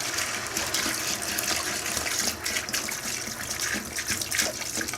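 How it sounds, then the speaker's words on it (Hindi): About four liters of water gush steadily into a pot of beef nihari being cooked restaurant style, a loud continuous close pour with no talk. "तो अभी मैं इसमें अपना पानी ऐड कर दूंगा"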